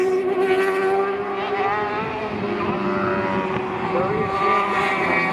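CSBK Pro Superbike motorcycles race at the 2026 AMP Motorbike Fest, their high-revving engines wailing loudly with rising and falling pitch as they pass, a voice talking over the noise at times.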